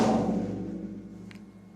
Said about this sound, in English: These three are tom drums